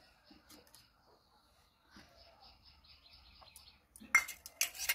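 Sago payesh whisked with warm milk and ghee in a home kitchen, giving a few soft stirring scrapes, then a burst of quick metallic clinks and rattles near the end, with faint bird chirps in the background.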